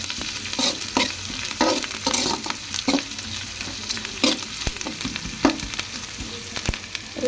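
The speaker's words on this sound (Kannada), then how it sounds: "ಇದನ್ನು ಚೂರು ಲೈಟಾಗಿ ಫ್ರೈ ಮಾಡ್ಕೊಳ್ಳೋಣ ಮೆಣಸಿನ್ಕಾಯಿನ" Green chillies fry lightly in a pan, a soft sizzle under frequent scraping stirs of a spoon against the metal, each stroke sharp and close.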